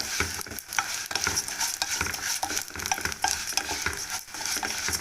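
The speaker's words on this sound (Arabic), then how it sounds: "نحمر الشعريه كده للرز" Vermicelli frying in a pan ahead of being mixed with rice, a steady close sizzle broken by repeated scraping and stirring strokes of a utensil, with no talk.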